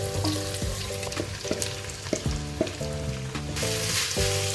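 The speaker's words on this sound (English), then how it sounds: "So now I'm frying the rice together with the onion." Rice and onion fry in a pan for Cameroonian fried rice, a constant crackling sizzle with occasional scrapes and stirring knocks, under steady background music.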